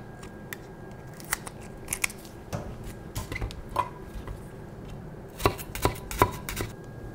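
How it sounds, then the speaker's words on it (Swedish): A knife finely chops a yellow onion on a cutting board, with a run of uneven, crisp cutting taps that cluster into quicker bursts near the end, set against faint kitchen background. "Jag tänkte börja med en gul lök."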